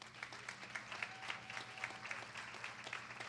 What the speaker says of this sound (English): I believe that that deserves a round of applause